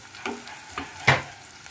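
Chopped onions fry in a pan for dhaba-style garlic palak paneer, with three quick spatula strokes scraping through a soft sizzle close by, the last stroke loudest.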